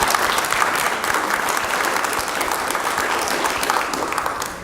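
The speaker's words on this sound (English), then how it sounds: "let's give her a round of applause" An audience at a public library room dedication gives a sustained round of applause, a dense, even wash of many hands clapping throughout, close and full.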